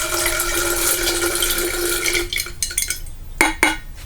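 Speckled peas tipped into a container and water poured over them to soak, a continuous splashing pour that stops, followed by a few sharp clinks of a bowl or utensil.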